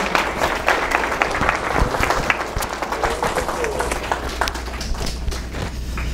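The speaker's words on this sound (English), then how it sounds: "Let's give another big round of applause to all of our speakers." Conference audience applauding a speaker at an educator appreciation event: close, uneven clapping with distinct individual hand claps standing out over the steady crowd applause.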